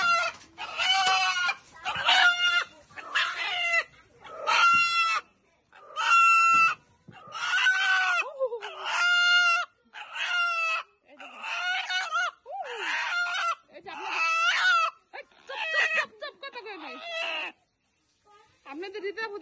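A hen being taken out for slaughter gives loud, close, repeated squawking clucks in bursts of about a second, separated by short pauses, with no clear speech.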